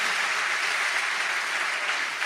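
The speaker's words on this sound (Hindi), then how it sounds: "इस पर तो जोरदार ताली बजाओ" Dense audience applause at a religious discourse gathering, a steady uniform clapping roar that lasts the whole short moment without pause.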